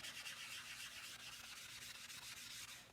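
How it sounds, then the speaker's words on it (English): A magic eraser scrubs chalk residue off a chalkboard sign, giving a steady, close, continuous rubbing hiss with quick back-and-forth strokes and no talking. "I'm going to take my magic eraser and use it on here."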